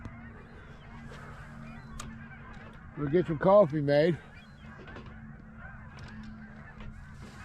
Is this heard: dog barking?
no